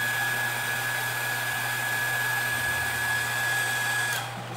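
A hair dryer used for crafts blows steadily and loudly up close, a constant whooshing hum with a faint high whine, cutting off near the end.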